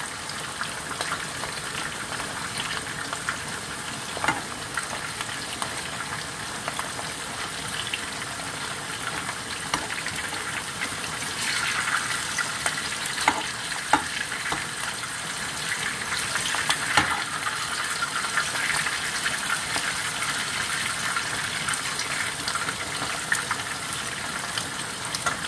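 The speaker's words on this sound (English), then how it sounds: "Bananas are boiling." Bananas cooking in a pot on a stove, a steady bubbling and sizzling wash that runs continuously at moderate level with a few louder pops and clinks, no talking.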